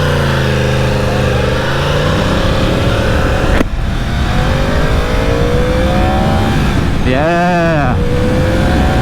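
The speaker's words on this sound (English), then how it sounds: "you will notice a major difference once you open it up and then hear the sound of the exhaust" A Yamaha R1 sport bike's exhaust roars up and down through high RPM, a loud close engine note that rises in pitch, cuts briefly, then revs again with a rapid wavering blip near the end, while a rider speaks over it.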